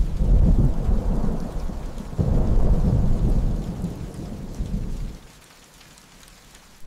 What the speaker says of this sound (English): The sound and the bass of the thunder, especially if you're wearing good headphones, just feel incredible.